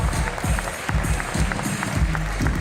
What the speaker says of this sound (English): give a big round of applause for your elite men right now